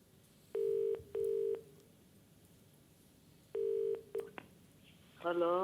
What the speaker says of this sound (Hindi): कंप्यूटर जी से मैं आग्रह करता हूँ कि यदि उनकी माताजी से फ़ोन लग सके